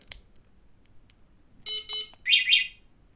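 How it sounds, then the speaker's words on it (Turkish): A few short electronic beeps, then a louder two-part warbling alarm tone from an electric moped, brief and fairly close, with quiet background noise between. "Alarmlı bir şekilde kapanıyor."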